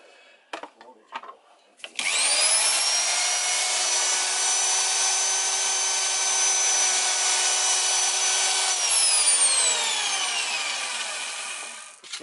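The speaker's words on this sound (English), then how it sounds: "So, drilling out the holes." A bench drill bores out holes with a steady, loud, high whining grind lasting about ten seconds, preceded by a few short knocks and winding down at the end.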